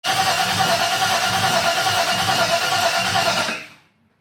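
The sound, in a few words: 1978 Holden One Tonner engine cranking and backfiring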